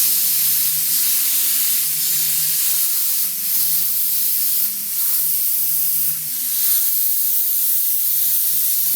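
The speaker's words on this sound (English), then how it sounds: "See, I'm spraying this orange glow, I'm spraying it on this wood that we've done" An airbrush sprays reducer-thinned orange paint onto wood in a steady, close, continuous hiss that runs for the whole stretch over a faint low hum.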